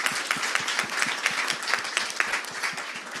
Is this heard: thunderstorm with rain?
no